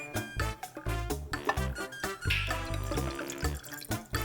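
Liquid pours and splashes into a cooking pot while Mexican-style white rice and pinto beans are prepared, close and fairly loud, with clattering handling noises breaking up the steady pour.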